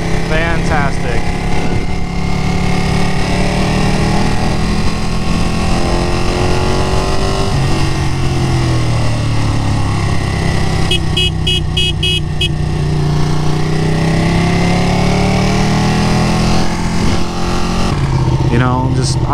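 A Ducati Panigale 959 sport motorcycle rides on an open road, its engine droning steadily with wind rush for the whole stretch, the pitch rising and falling as the rider accelerates and eases off.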